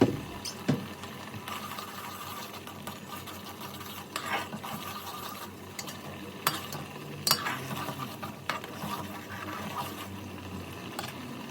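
Spice powders being stirred into Onam ada pradhaman payasam, a steady low scraping and swishing of a spoon through thick liquid with a few louder clinks and knocks against the pot, close and continuous with no talk.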